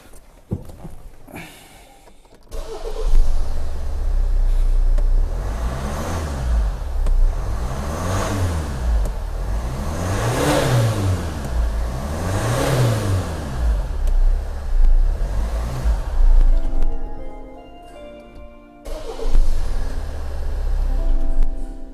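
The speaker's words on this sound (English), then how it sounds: "I started the car and I rev it up and down," A 2013 Hyundai Santa Fe diesel engine, checked for its EGR valve, starts after a couple of clicks, idles, then revs up and down repeatedly in rising and falling sweeps before settling back and revving once more.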